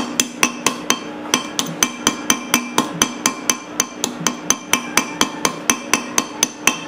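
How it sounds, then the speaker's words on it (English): Hammer peening metal on an antique Bessemer engine piston repair, a steady rapid series of sharp ringing metallic blows, about three per second, close and loud with no talk. "Gotta remember, you gotta peen that stuff,"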